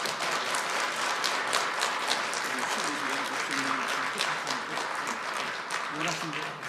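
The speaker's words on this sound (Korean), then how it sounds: "큰 박수로 환영해 주시면 감사하겠습니다." An audience at a Friday-night lecture applauds to welcome the speaker, a broad steady wash of clapping with murmured voices mixed in throughout.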